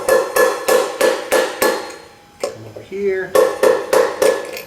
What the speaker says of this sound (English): Just use my socket here,